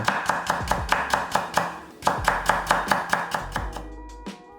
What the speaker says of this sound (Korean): 양파 작은 거 반개는 살짝 굵게 채 썰기